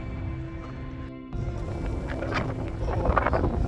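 Wind blows across a snowy stretch of the Yorkshire coast at Whitby, a continuous low rush that briefly dips then picks up again and grows slightly stronger, with no one speaking.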